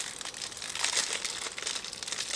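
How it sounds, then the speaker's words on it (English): Plastic packaging of a hair clipper and beard trimmer kit crinkles continuously up close, a steady dense rustle and crackle with no talking. "I can't get the plastic open."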